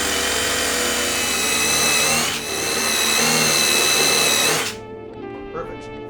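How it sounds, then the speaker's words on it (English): A power drill bores holes into a plywood subfloor inside a van conversion, running as one steady loud whine that dips briefly, then resumes and cuts off near the end, leaving a quiet tail. "So I'm gonna go ahead and drill these out, and then we'll put the screws in"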